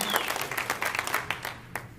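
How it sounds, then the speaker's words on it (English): A church congregation claps for graduating seniors on a graduate Sunday, with individual claps distinct and uneven rather than a dense roar, close and fairly loud. "Everybody give them a round of applause"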